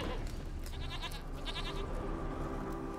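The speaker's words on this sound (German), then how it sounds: "Komm her, Ziege." Goat bleating in The Witcher 3: Wild Hunt Remastered, two wavering bleats over a dense, steady game soundscape of ambient music and background noise, with no talk.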